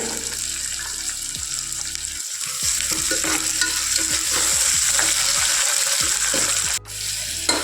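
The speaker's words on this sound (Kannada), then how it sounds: "ಇವಾಗ ಟೊಮೆಟೊ ಈರುಳ್ಳಿ ಎಲ್ಲ ಚೆನ್ನಾಗಿ ಫ್ರೈ ಆಗಿದೆ" Onion, tomato and mint frying in a pan for a pigeon pea gravy: a continuous close sizzle with repeated spatula stirring and scraping strokes throughout, and a brief dip near the end.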